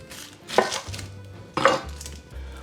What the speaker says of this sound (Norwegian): Løken skjærer jeg i små biter.